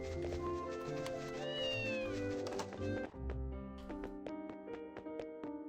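A cat meows repeatedly in the video game Ys Chronicles: several rising, tonal cries over steady game music, followed by a run of short regular clicks.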